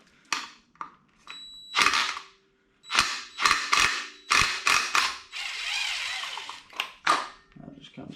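Wrench loosening the timing belt tensioner on a Subaru EJ engine during a teardown: sharp clicks and clanks in irregular bursts, then a rattling metallic stretch, close up and moderately loud.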